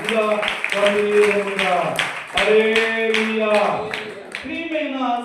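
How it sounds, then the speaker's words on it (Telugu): A church congregation claps hands in praise in a regular rhythmic beat beneath a prominent sustained voice that sings or chants over the claps. "చప్పట్లు కొట్టి దేవుని స్థుతిస్తాం"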